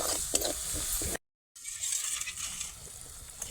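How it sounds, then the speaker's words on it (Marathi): Garlic and green chillies sauté in a pan for a pumpkin curry, a soft steady sizzle with faint stirring scrapes, interrupted by a brief silent gap before the frying resumes close by. "लसूण आणि मिरची आणि मिरची चांगली परतून घ्यायची"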